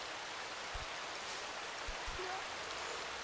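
Steady rushing water from the climbing video game A Difficult Game About Climbing, a constant broadband wash at moderate level with a few faint low thumps, no voices.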